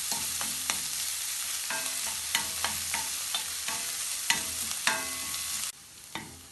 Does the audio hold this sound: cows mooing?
no